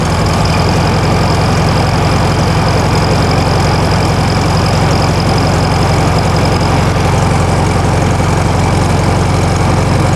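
A 1964 Volkswagen Beetle with a 1600cc engine idles steadily and loudly, a constant close-up drone with no change in pace and no talking over it.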